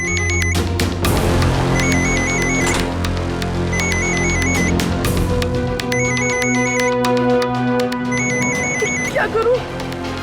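A phone ringtone rings loudly and repeatedly in a steady electronic pattern, playing over a dense musical background in a domestic scene.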